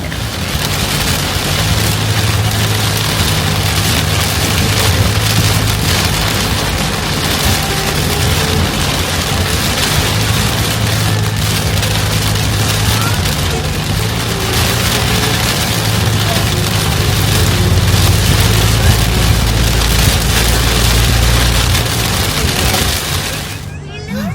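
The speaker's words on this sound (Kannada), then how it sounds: "ಈಗ ಒಳ್ಳೆ ಮಳೆ" Heavy rain pours steadily in a dense, loud roar that barely changes, with a low rumble underneath.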